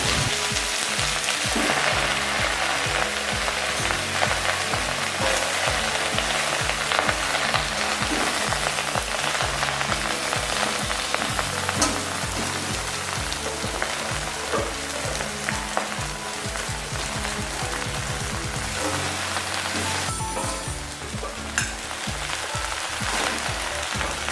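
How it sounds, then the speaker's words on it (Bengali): Bottlenose gourd greens sizzle in hot oil seasoned with five-spice while being stirred, a continuous loud crackling fry with rhythmic scraping stirs and a sharp burst near the end, and no talking. "ফোড়ন ভাজা হয়ে গেলে শাকটা দিয়ে দিন অল্প অল্প করে আর নাড়তে থাকুন"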